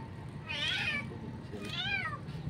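A small kitten named Lucky meowing while being bathed, two drawn-out, wavering meows close by over a soft background hiss, with no talking.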